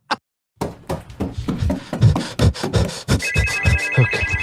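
A phone ringtone sound effect plays in an advertisement, opening with a short blip and then repeated bright electronic ringing tones in a steady rhythm, loud and close, with no voices.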